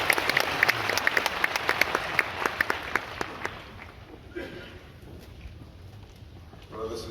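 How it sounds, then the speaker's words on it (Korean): A church congregation at a Korean church service day claps in warm welcome for a testimony speaker, sharp dense applause for about three seconds before it thins and fades, with a voice briefly at the end. "우리 세우신 하나님께 영광의 박수 올리겠습니다."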